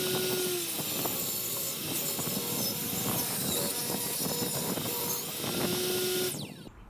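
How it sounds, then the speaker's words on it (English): A table saw rips lumber for a stair subfloor, a close, dense whine and cutting rasp that runs steadily for several seconds before winding down at the end. "I set the table saw fence to just cut 1/8 of an inch at the front"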